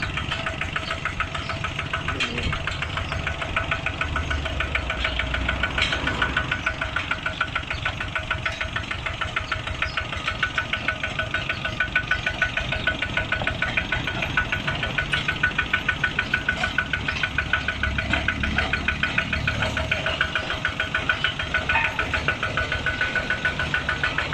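A ZT100 Plus walking tractor engine, fitted with a Big Jiw 88 tail and rake plow, runs steadily for the whole stretch with a close, loud, rapid chugging knock and no speech over it.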